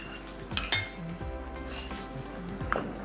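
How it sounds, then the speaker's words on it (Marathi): A metal idli steamer pot is handled with several sharp clanks and clinks of metal against metal, scattered across a few seconds over a low background hum. "आता इडलीचं भांडा इथे घेतलेलं आहे"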